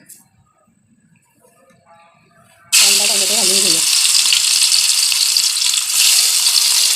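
Onion, tomato, curry leaves and bay leaf dropped into hot oil for chicken rassa set off a sudden loud, steady sizzle that runs to the end, after a quiet opening with brief talk.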